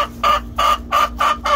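Several hens cluck in short bursts, about five rhythmic calls spaced evenly, close by over a low steady hum.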